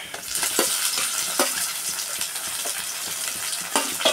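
Tomatoes fry in a pan with sautéed onions, giving a steady, close sizzle broken by repeated clinks and scrapes of a spoon as the mix is stirred, with no voices.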